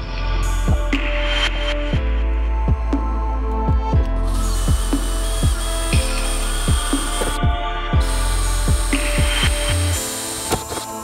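Repeated short bursts of a power drill boring holes through a van's metal door for lock rivets, each whine starting and stopping in a steady rhythm, close and loud with no speech.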